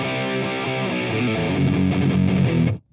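A heavily distorted electric guitar plays a thrash metal riff at full speed, a dense, fast run of gritty notes that ends abruptly, loud and close with no talking.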